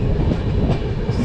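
Nanda Devi AC Superfast Express train running at high speed on Indian Railways, a loud, steady rumble with rail clatter heard from inside the coach, brief and continuous.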